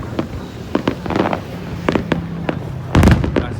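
New Year fireworks over Ho Chi Minh City: a run of sharp, booming bursts and crackles, some near and loud, others farther off, with a dense cluster of blasts near the end.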